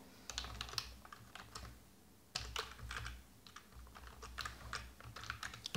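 Rapid bursts of keystrokes on a computer keyboard while someone enters JavaScript code, pausing briefly midway before another run of close, steady clicking with no talk.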